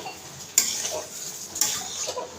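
Pasta being stirred in a pan over a low gas flame: two sharp clacks of a utensil against the pan over a soft background sizzle, close and alone.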